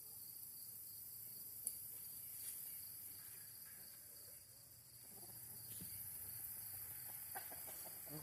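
Backyard chickens pecking at tossed vegetable scraps give soft, scattered clucks at a modest distance over a steady high whine of insects, with a few faint clicks and rustles and no talking.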